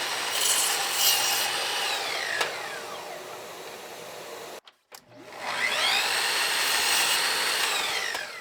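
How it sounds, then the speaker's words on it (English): A miter saw cuts pine rails for a door in a blacksmith shop, whining and grinding through the wood in two long passes with a short pause between them, loud and close. "Before using the saw, make sure the miter fence slides through without coming anywhere near the blade."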